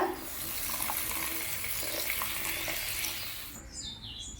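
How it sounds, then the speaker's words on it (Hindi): A small amount of water poured into a pan while cooking a mustard-paste dried fish dish, a soft steady splashing pour lasting several seconds, fairly quiet with no talking. "अल्प पानी दबा।"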